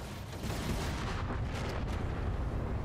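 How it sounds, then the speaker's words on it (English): Deep, rumbling explosion with sustained crackling blast noise fills a space-combat scene in the video game Everspace 2, loud and continuous throughout with no talking. "Ooh, that explosion sound seemed better or different."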